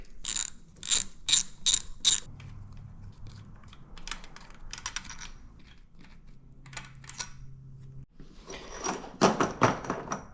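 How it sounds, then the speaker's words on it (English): A ratchet wrench with a 13mm socket loosens bolts from a 4L65E transmission during a teardown. Rapid, close clicking comes in quick bursts with metallic handling between them and more ratcheting near the end. "we're going to use a 13mm socket, and we're going to remove all of these bolts here"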